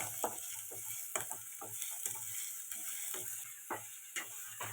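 Food stirred in a frying pan, a steady sizzle with repeated scraping strokes of a spoon across the pan, close and fairly quiet, with no voices.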